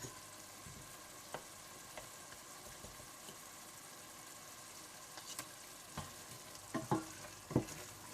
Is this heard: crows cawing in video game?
no